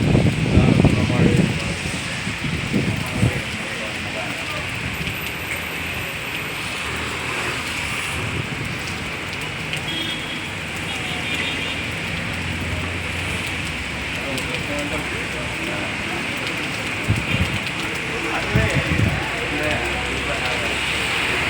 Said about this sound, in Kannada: ಮಳೆ ಹುಯ್ತಾ ಇದೆ.